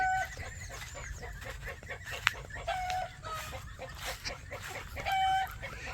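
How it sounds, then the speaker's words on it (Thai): Chickens cluck nearby in a farm setting, with scattered cackling calls and brief squawks over a steady outdoor background, and no speech. "ไก่น่ะก็กระตากกระตากอยู่"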